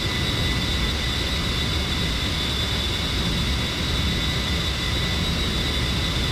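A-10C jet engine at reduced throttle during straight and level cruise in the DCS flight simulator, a steady, loud, unbroken turbine roar with a high whine layered on top, and no talking.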